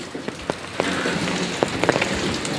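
Rain falls steadily on a property at Coorg Evergreen County, a dense close patter with scattered heavier drops striking nearby surfaces, with no voices.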